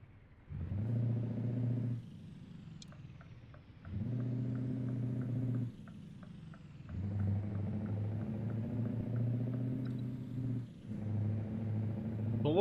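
Modded Scania S580 truck in Euro Truck Simulator 2 with an aftermarket exhaust, its deep engine drone rising and falling in several long pulls with brief dips between, steady and close, faint ticking above.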